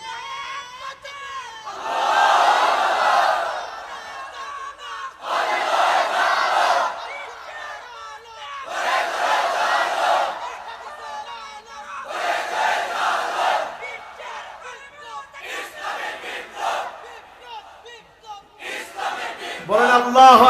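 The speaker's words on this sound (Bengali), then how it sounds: "এটা নন স্টপ তাকবীর হয়েছে" A large gathered crowd chants the takbir Allahu Akbar non-stop in repeated loud collective bursts, each shout swelling for a couple of seconds with brief pauses between, voices in unison echoing in a large space.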